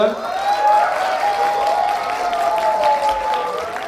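A lecture audience claps and cheers warmly, a dense wash of applause that holds steady, with a sustained tone running through it.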